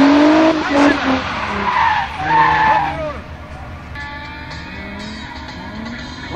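Nissan 350Z drifting at an Iceland drift event, tires squealing loudly in rising and falling wails over engine noise, then a quieter distant engine drone with a faint crowd.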